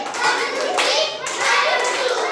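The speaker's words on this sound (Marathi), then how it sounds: "हा स्काउट गाईड क्लॅप गो" Schoolchildren in a Marathi primary school classroom perform a scout-guide clap, a dense burst of many hands clapping together in quick repeated rounds, close and loud, with children's voices mixed in.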